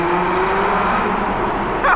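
A 2024 Lotus Emira Sport engine holds a steady, loud drone through a rev-matched downshift, the pitch sliding slightly before a brief bump near the end.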